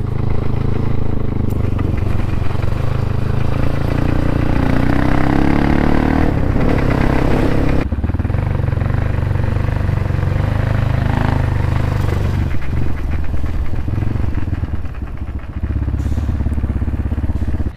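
A motorcycle fitted with a loud Crossfire aftermarket exhaust rides along a road in Nepal, its engine droning and revving close up with throaty rumble, gear changes and brief dips, continuous and alone without talk.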